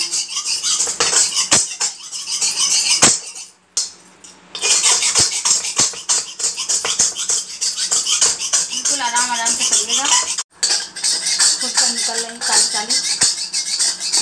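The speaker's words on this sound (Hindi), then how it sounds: "हम इसको रगड़ रगड़ के छुड़ाएंगे।" A knife scrapes and rubs at a burnt, greasy black iron kadhai, producing steady metallic scratching and squeaks with brief clinks and a couple of short pauses, close and fairly loud.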